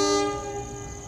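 A loud, sustained train horn blares over the low rumble of the Cikuray train at Cibatu station, Garut, steady and close for the whole moment.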